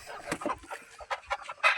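Several desi country chickens cluck and chatter close by in short, irregular bursts, one squawk louder near the end, in Rajgurunagar, Pune district.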